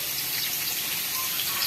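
Water pours steadily into a cooking pot in a home kitchen, a continuous close, even rushing splash with no voices.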